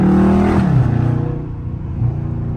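Dodge SRT in track mode revving during a downshift, a loud, close engine roar that drops in pitch and then blips briefly again as the revs settle.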